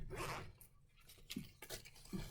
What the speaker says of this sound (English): there's 2 separate zippers on these, and so let me undo one of these all the way